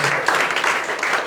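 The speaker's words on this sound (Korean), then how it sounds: "격려 박수 한번 하시겠습니까?" Audience applause of encouragement at a Christian mission forum in a church, a dense steady wash of clapping lasting about a second with no voices over it.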